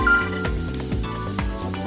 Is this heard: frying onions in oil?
yes